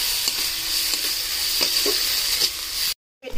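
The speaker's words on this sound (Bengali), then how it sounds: "এবার এটাকে ভালো করে কষিয়ে নেব মশলাটাকে।" Spice masala of chilli and coriander powder stir-fried in a pan, a steady close sizzle with scraping stirs throughout before a sudden drop to near silence at the end.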